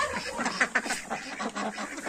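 Indian runner ducks in a farmyard enclosure give a rapid run of overlapping quacks and honks, close by and fairly loud, with busy chatter from several birds at once.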